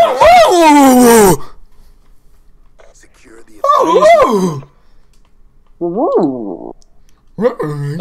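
A human voice imitates a dog during online game chat, letting out a long whiny whimper followed by several shorter, high yips and yelps separated by quiet pauses. The sounds are loud and close.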